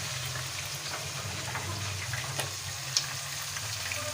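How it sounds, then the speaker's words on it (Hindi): Meat frying in oil in a pot for Kashmiri-style chicken, a steady low hiss and sizzle with faint stirring clinks, close and continuous, no talking. "गोश्त को थोड़ी देर फ्राई करें तेल में अच्छी तरह से।"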